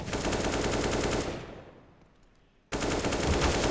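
Rapid automatic gunfire in Counter-Strike on the Inferno map, a dense loud burst that fades into a brief hush before another sharp volley cuts back in at full strength.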